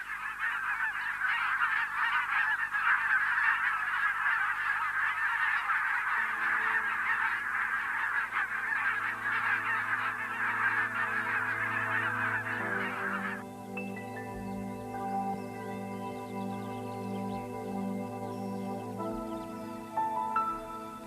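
A flock of wild geese honks continuously, a dense chorus of loud overlapping calls for the first half that thins to scattered, fainter honks later as other sounds take over.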